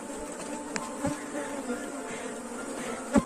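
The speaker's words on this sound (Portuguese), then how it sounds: "O enxame aqui é um pouco mais agressivo que o normal." A populous, somewhat aggressive honey bee swarm at the hive, drawing out wax, makes a steady close buzzing drone with individual bees zipping past the microphone, and no talking.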